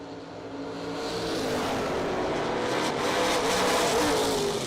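Drag racing cars, one of them a Mustang, launch and build into a sustained, loud roar of engines at the strip, swelling steadily and staying dense without any talk.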